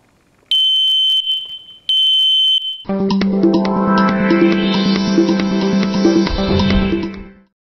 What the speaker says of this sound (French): Lorsque la fumée va rentrer dans le détecteur, elle va couper le faisceau et donc déclencher l'alarme.